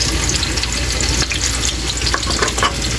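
Tofu (tokwa) for sisig frying in hot cooking oil, giving a steady, dense sizzle and crackle that runs without a break from start to end at close range, with no voices.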